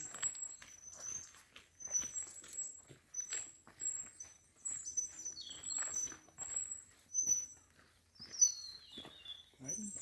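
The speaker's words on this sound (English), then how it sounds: "Birds are really insistent this morning." Birds chirp and tweet repeatedly in the distance in the morning on the Camino de Santiago in Spain, high calls scattered across a quiet outdoor scene with soft footsteps.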